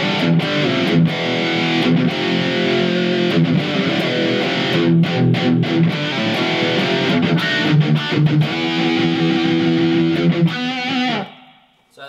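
Electric guitar played through a Blackstar ID Core amp on an overdrive setting, using a humbucker on a Strat with the guitar volume full up: a steady, loud, distorted stream of strummed chords and riffs that cuts off abruptly at the end.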